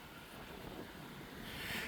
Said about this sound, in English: it's a little bit windy today